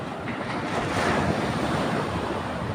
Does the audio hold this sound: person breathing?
no